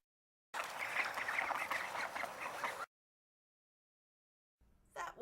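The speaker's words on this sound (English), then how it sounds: "Quacking is so much fun, they all agreed." Ducklings quacking in a dense, busy chorus for about two seconds, followed by silence and a brief faint burst of sound near the end.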